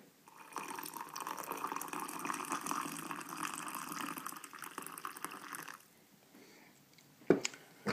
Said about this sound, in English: let's go ahead and pour the coffee